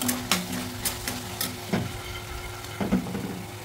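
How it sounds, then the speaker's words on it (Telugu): Vegetables and egg frying together in a pan for restaurant-style egg fried rice, a constant close sizzle punctuated by several sharp scraping strokes of a spatula stirring. "వెజిటబుల్స్ వేసాను, ఎగ్ కూడా వేసాను. ఇవి కొంచెం బాగా వేగాలి."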